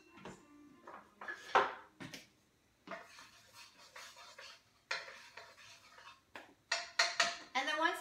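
A frying pan clatters and scrapes on a kitchen stove as oil heats, with irregular clinks and knocks of cookware and utensils coming in short bursts, close by.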